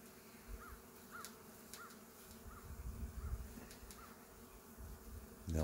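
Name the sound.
honey bees buzzing around a bowl of honey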